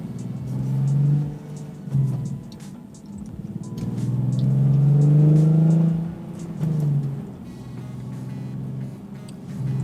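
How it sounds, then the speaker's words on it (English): Manual car pulling away in first gear as the clutch is let out, engine note rising in a smooth rumbling swell from close inside the cabin, easing off and swelling again, with a low steady drone underneath. "First gear. Giving it gas as I let off that clutch."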